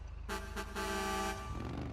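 Horn of the Liberator monster truck in GTA, a loud harmonic blast sounded in two short bursts then one longer sustained honk, up close and alone.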